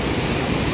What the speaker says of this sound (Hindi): देखो बारिश के कारण कितनी भयंकर नदी बह रही है बीच रोड के ऊपर।